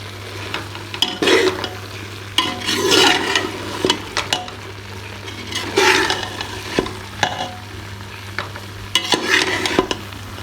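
A spoon scrapes and stirs a chicken, potato and lentil shami kabab mixture as it cooks dry in a pot, with irregular bursts of scraping over a low, steady sizzle and a faint hum.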